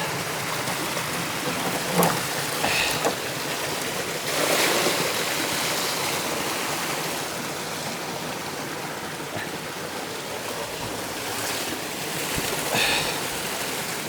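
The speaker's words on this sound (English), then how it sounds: "I've got to offload this water now." Water gushes and splashes out of a barrel in a steady, continuous rush, with a few louder surges partway through, close by and with no talking.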